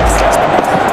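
Dense, steady crowd noise fills a stadium as the openers walk out at a Sri Lanka vs Afghanistan 2022 one-day international cricket match, a continuous broad roar with no single sharp cheer standing out.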